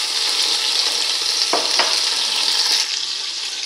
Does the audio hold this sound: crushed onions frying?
yes